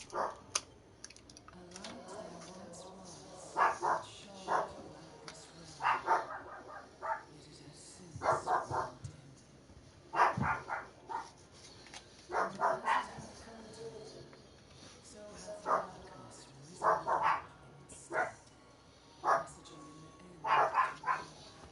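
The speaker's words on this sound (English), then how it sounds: "I apologize for people that can hear the dogs barking." Dogs bark in short bursts at intervals throughout, fairly loud and a little distant, with occasional keyboard typing and some talking in the background.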